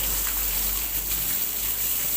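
Steady broadband rush of water running from several ablution taps opened at once in a mosque wudu area, a continuous even flow filling the clip with no voices.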